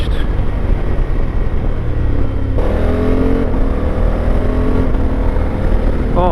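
A 2024 Honda Africa Twin Adventure Sports with a manual gearbox accelerates hard, its engine note climbing loud and close. A quick-shifter upshift drops the pitch sharply partway through, then the revs climb again under steady wind rush.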